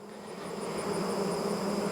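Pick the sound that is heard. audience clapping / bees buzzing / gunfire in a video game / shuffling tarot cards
bees buzzing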